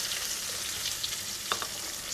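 Chopped onions hit hot oil already tempered with mustard seeds for a sprouted horsegram and brinjal kuzhambu, a soft, steady sizzle with faint occasional pops and stirring clicks.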